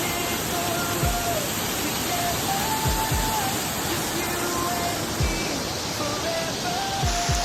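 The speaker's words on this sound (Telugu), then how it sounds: "here you can listen the water falls" A waterfall in the Grampians roars as a steady, dense wash of falling water, with faint bird calls and occasional low thumps over it.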